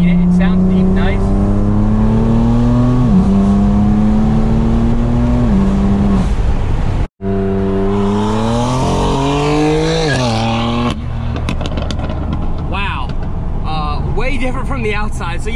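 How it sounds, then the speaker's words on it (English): Exhaust of a car fitted with a VRSF 3.5 single midpipe that deletes the resonator and both catalytic converters, droning deep and steady with a brief cut mid-way, then rising revs; someone talks over the engine throughout. "when you install this, it gets rid of the resonator and the two cats."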